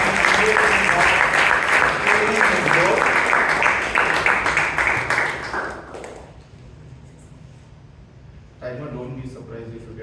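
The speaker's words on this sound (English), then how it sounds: "Can we have a huge round of applause to our" Loud audience applause fills a Toastmasters club meeting, a dense burst of clapping that fades out after about six seconds, followed by quiet and then a brief voice.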